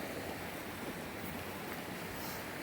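A monsoon-season river runs in a steady, broad wash of flowing water, close and continuous, with no voices over it.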